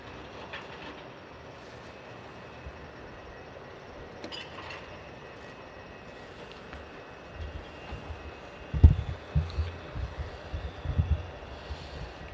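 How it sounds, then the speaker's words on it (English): Heavy mechanical rumbling from a truck, then loud crunching thuds and grinding bursts that build toward the end. "throwing it into that dump truck, and crushing it. That's the sound that you're hearing."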